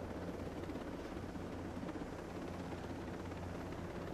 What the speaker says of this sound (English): There's a helicopter behind me.